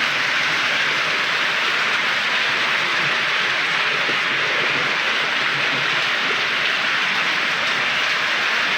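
Heavy rain pours down in a steady, dense, loud hiss that stays constant throughout with no voices.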